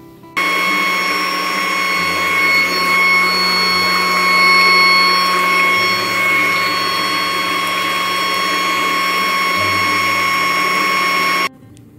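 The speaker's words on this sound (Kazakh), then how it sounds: "Өйткені біздің сепарат тоқ сепарат болғандықтан қазір дауысы керемет болып" An electric cream separator skimming cream from milk for homemade sour cream whirs with a loud, steady mechanical hum and a ringing tonal whine. It starts abruptly, runs without a break, and cuts off near the end.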